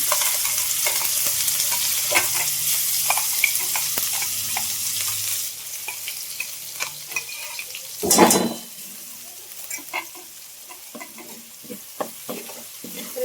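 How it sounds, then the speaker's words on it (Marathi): Ground paste with cumin sautéing in hot oil in a kadai, a close, continuous sizzle with occasional stirring scrapes and one louder burst of spattering partway through. "थोडा वेळ परतून घेऊ तेलामध्ये"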